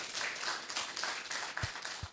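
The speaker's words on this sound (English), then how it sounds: "Please, a round of applause for him for the last time." Audience applause at an academic conference on higher education in Africa, a fairly faint, brief burst of clapping from a seated crowd.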